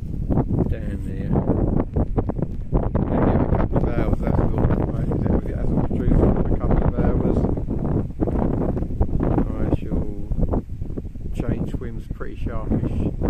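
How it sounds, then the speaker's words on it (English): Strong gale wind buffets the microphone beside a Lincolnshire drain, a loud continuous roaring rumble with gusty bursts, while people talk through it. "Blown a gale."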